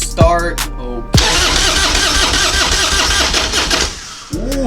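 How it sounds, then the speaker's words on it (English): A Harley stunt motorcycle that has sat unused for weeks through cold weather cranks in two short bursts, then catches and runs roughly for a few seconds before cutting out and cranking again, loud and close. "I go to start the bike"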